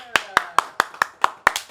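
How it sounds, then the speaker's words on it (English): Eight sharp, evenly spaced hand claps from a small group on a podcast set in Puerto Rico, crisp and close with a short ring after each, no talking over them. "Round of applause"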